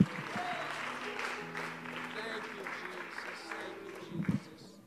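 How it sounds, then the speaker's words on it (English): Church congregation clapping hands in praise, a fairly faint, even patter of applause throughout with scattered voices murmuring beneath and a brief louder burst near the end. "if you could just give Him one more hand clap of praise"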